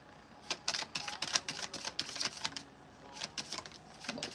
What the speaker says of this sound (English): I don't know if you can see the cards flying out when I'm shuffling them.